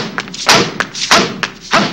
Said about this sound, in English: Come on, everybody, and stomp your feet real loud.